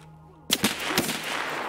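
Gunfire in a video game: three sharp shots crack in quick succession after a short quiet hum, with a ringing tail that lingers loudly afterward.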